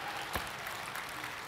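Light audience applause at a tech conference keynote, a soft brief patter of clapping with one sharper clap standing out near the start.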